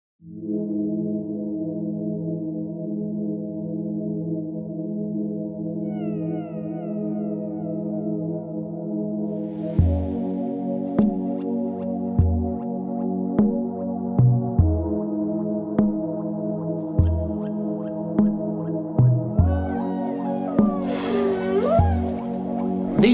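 Deep underwater whale calls carry over a steady low droning hum, with rhythmic thuds and clicks joining partway through and a sweeping higher moan near the end.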